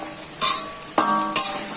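Carrot and capsicum pieces stirred through chicken fried rice in a hot pan, with a soft sizzle under two quick scraping strokes of a spoon against the metal.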